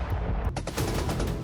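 Rapid bursts of gunfire from cannon and drone strikes on the Syrian town of Manbij crackle in quick succession, sharp repeated reports over a dense rumbling background.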